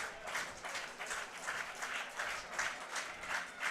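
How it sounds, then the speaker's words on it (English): Baseball fans in the stands at an IBL finals game in Guelph clap steadily on a 0-2 count with two out, a faint, fairly even patter of many hands heard from a distance across the whole stretch. "The fans start clapping here"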